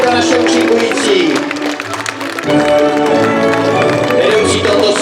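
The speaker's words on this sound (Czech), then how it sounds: "Prosím potlesk pro naše účinkující." A folk festival audience at Dušnické Máje claps and cheers for the performers, with dense, loud applause running steadily throughout, a brief dip midway, and a murmur of crowd voices mixed in.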